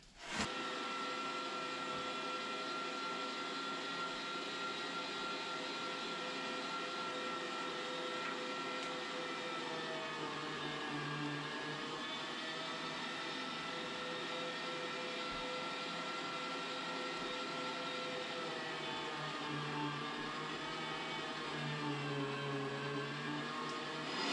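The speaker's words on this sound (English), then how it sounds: "You want to let the grinder do its thing." Electric meat grinder running steadily as it grinds seasoned meat for homemade Polish swojska kielbasa, a continuous motor whine with slight changes in load, fairly loud and close, with no talking.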